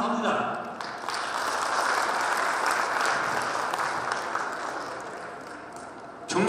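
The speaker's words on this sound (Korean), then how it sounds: "다시 한번 하나의 큰 박수 부탁드립니다" Loud, sustained applause from a crowd at a Korean hometown association's chairman inauguration ceremony, steady clapping filling the whole stretch before tapering slightly at the end.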